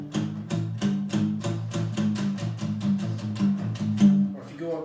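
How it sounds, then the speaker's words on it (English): Palm-muted guitar chords with a dark, chunky tone, picked near the bridge in a quick repeated rhythm, close and prominent with no other sounds. "Palm mute, where you kind of have your palm down by the bridge to get that chunkier sound"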